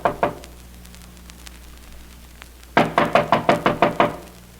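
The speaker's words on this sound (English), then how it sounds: "Wait, I'll knock." Knocking on a door as a radio drama sound effect: two knocks, a pause, then a quick run of about eight sharp, close raps over a steady low hum.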